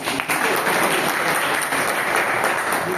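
A crowd at a monthly branch meeting breaks into loud, dense applause that holds steady and close for several seconds, with no speech over it.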